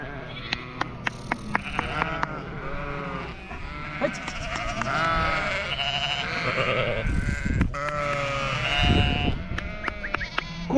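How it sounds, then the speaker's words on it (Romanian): A flock of sheep in Maramureș, Romania, bleats repeatedly with overlapping near and far calls, a mix of high and low voices, while people talk and bells clink in the background. "Oamenii asta vor să vadă oile"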